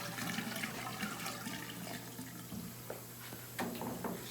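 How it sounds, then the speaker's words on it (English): Darkroom stop bath and developer poured down a sink drain: a steady, close wash of running liquid over a low constant hum, with a few splashy spikes toward the end. "Our stop bath and developer can go down the drain."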